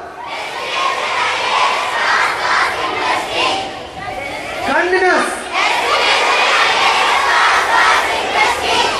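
A large seminar audience at an IAS coaching event in Palakkad shouts together on command, a loud, continuous massed roar of voices that swells and surges, with one voice briefly rising above the crowd.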